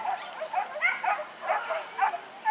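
A dog during a wild boar hunt, barking and whining in a rapid series of yelps at moderate distance over a steady high-pitched background hum.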